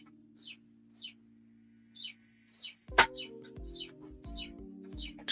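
Newly hatched chicks in a Titan brooder hen give repeated high peeps and cheeps at a steady rhythm, close and fairly clear, with a low mechanical hum underneath and a louder clunk of handling partway through.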